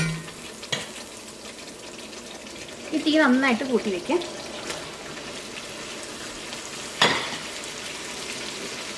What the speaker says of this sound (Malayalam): ഇതിലേക്ക് ചിക്കൻ ചേർക്കാം.